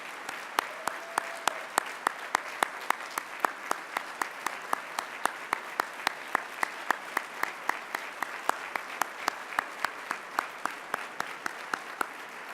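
At the 2019 Terry Alumni Awards and Gala, an audience applauds the president: sustained clapping with sharp, regularly spaced claps standing out above a continuous bed of hands for over twelve seconds, with no talking.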